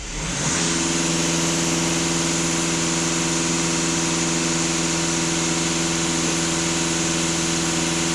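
A VW Golf 2.0 TDI diesel engine is floored to full throttle and holds a loud, steady high-rev drone for about eight seconds, with no talk over it.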